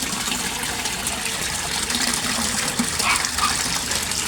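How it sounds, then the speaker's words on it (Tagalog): A Rizan aerator pump churns water in a koi pond, giving a loud, continuous gushing and bubbling wash that holds steady throughout with no voices. "Rizan aerator pump guys, ang aerator Rizan aerator pump"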